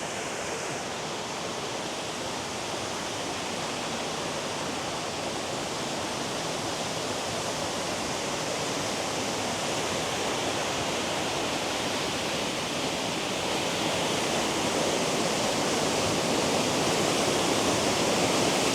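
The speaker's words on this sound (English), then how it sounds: "Next, I think we'll take a little walk through Bafante Falls here." Steady, loud rush of a waterfall at Bafante Falls in Gilroy Gardens, a broad continuous roar that holds unbroken and swells slightly toward the end, with no talk over it.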